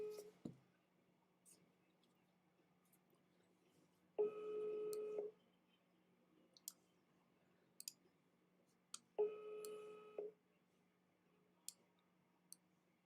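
A telephone busy signal sounds during a phone call, two separate electronic tone bursts about a second long, spaced several seconds apart, with faint clicks in between and quiet background.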